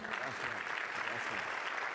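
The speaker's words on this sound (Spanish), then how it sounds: "ustedes lo conocen, un aplauso para Juan" An audience applauds a panelist at a business conference, a continuous wash of clapping with voices murmuring underneath.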